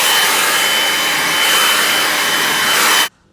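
A Flymo PowerVac 3000 garden blower vacuum runs at full power with a loud, steady roaring whoosh for about three seconds, then cuts off abruptly.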